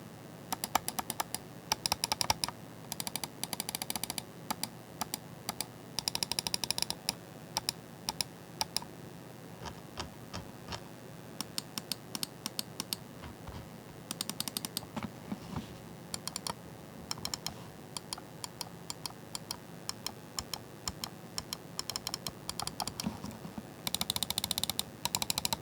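Mouse buttons click in a sound test, a dense run of crisp, close clicks in irregular bursts that continues for about twenty-five seconds, with no talk.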